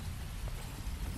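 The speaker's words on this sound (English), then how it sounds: "It's just pretty much rain and more rain and some occasional lightning and thunder." Video game rain falling steadily as a dense, even hiss of drops, with a low rumble underneath that could be distant thunder, and no voices.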